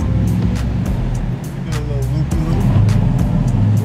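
Low, steady car engine rumble while driving, close and loud, with rhythmic bursts and thumps over the drone as the vehicle rolls along.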